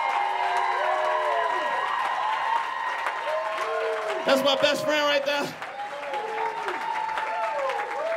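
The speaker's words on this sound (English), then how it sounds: "Huge round of applause for this amazing string section." An audience at a gallery music performance applauds a string section, the clapping and cheering running underneath someone speaking over the crowd while lingering tones ring out.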